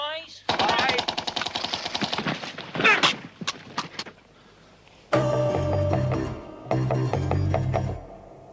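Rifles fire a ten-round application shoot on a range: a dense crackle of rapid shots, then several spaced single reports, then two sustained louder bursts, fairly close.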